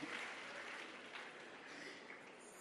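An audience at an inauguration ceremony at a Global Institute in Udaipur, Rajasthan, gives soft, distant applause, a continuous patter of clapping lasting the whole moment.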